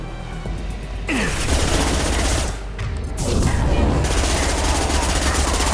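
Gunfire in the Mass Effect 2 video game, dense rapid bursts and booms layered over a constant loud combat din that runs through the whole stretch, with brief dips in intensity.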